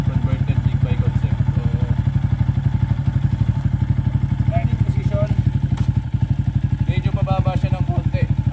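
A Yamaha Sniper 150 motorcycle engine, converted to a big-bike concept, idles with a steady, rapid mechanical chug close by, while people talk faintly over it.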